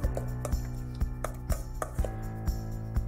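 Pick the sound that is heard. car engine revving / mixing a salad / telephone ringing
mixing a salad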